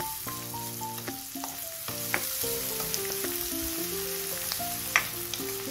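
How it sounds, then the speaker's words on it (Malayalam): Chopped onions and garlic sautéing on a high flame for egg and vegetable Maggi noodles, giving a steady, even sizzle that continues under melodic background music. "എല്ലാം ഹൈ ഫ്ലെയിമിലിട്ടിട്ട് തന്നെ വഴറ്റിയെടുക്കുക."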